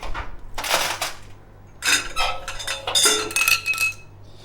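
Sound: metal wing nuts for a Coleman charcoal grill being handled

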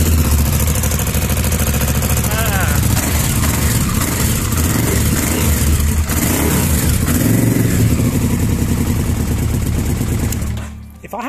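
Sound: Honda VTR1000 Firestorm motorcycle engine revving

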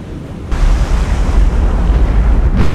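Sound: ship magazine explosion in video game War on the Sea

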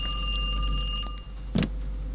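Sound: telephone ringing in the video game Kiosk

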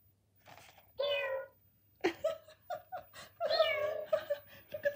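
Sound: Loona robot pet imitating a cat

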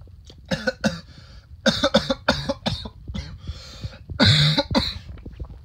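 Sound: person coughing

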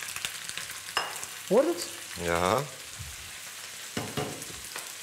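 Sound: shallots sizzling while frying in a pan

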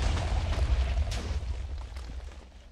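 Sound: TNT explosion in the video game Minecraft

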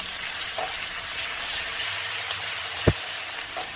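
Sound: ground masala and curry leaves frying in oil

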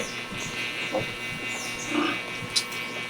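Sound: sow and piglets

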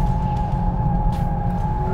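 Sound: Mercedes A45S drifting, tyres skidding

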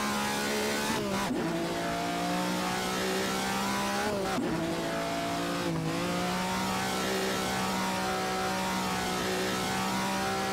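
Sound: Ferrari 250 GTO engine and tires drifting, Assetto Corsa video game

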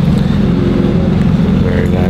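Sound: McLaren 765 Long Tail engine noise

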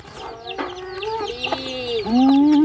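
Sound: chickens clucking

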